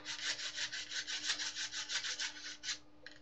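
A handheld polishing tool rubs back and forth across wood in a steady, rapid rhythm of raspy scraping strokes, close and alone, pausing briefly near the end.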